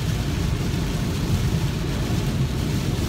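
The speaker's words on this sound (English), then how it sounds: "It is raining like crazy, you know." Heavy rain pouring down, a dense, steady rushing hiss with a low rumble and no distinct drops.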